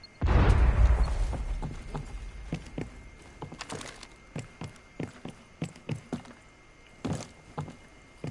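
A grenade in a Rainbow Six-style video game explodes as one deep, loud boom at the start that fades over about a second, followed by scattered quieter footsteps and thuds.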